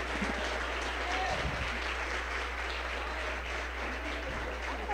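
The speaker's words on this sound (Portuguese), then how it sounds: "Vamos aplaudir Jesus." A church congregation applauding Jesus during a Portuguese-language service, with continuous, fairly dense clapping over a low steady hum, moderately loud and unbroken throughout.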